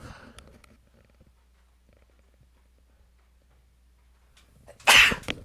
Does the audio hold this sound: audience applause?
no